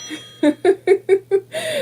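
An alarm beeps in a quick run of five evenly spaced electronic tones, fairly close and loud, followed by a longer sustained tone at the end.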